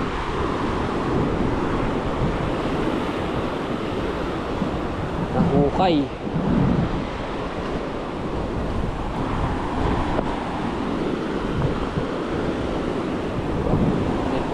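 Sea waves wash onto a beach in steady wind, with a continuous broad rush of surf and gusty noise on the microphone. Someone speaks briefly near the middle.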